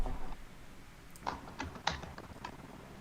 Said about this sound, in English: He's typing. He's typing stuff.